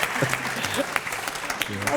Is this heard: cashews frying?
no